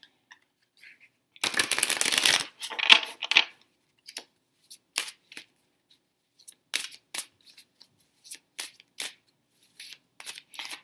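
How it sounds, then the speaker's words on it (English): Tarot cards are shuffled in a loud riffling burst up close, followed by a few more shorter shuffles and then scattered soft card taps and flicks as cards are handled and laid out. "So I'm going to pull some cards for career."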